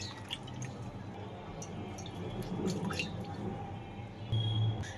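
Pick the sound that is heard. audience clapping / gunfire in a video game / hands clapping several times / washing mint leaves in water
washing mint leaves in water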